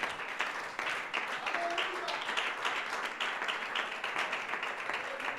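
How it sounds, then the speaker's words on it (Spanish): A church congregation applauds together during a worship service, a dense, sustained patter of many hands clapping at even loudness for several seconds, with scattered voices calling out underneath. "denle ese aplauso al Señor"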